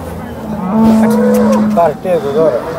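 A Jersey cow gives one long, loud moo nearby at the Sangola cattle market in Maharashtra, followed by a couple of shorter, rising lows.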